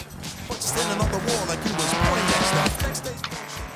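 A beast buggy driven in Forza Horizon 3 roars loudly and continuously, its engine drone layered with repeated tire squeals and skidding as it slides through turns.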